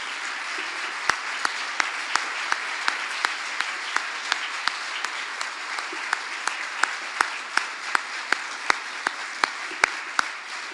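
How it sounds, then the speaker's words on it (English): A large audience at a school district hall of fame awards luncheon applauds steadily for Springfield public school employees, dense continuous clapping with scattered louder individual claps standing out, no talking over it. "let's give you a round of applause for serving our kids"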